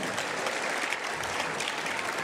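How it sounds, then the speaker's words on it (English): Dense, steady applause from a concert audience at a high school orchestra concert, many hands clapping at once without a break, close and loud throughout. "He needs a round of applause."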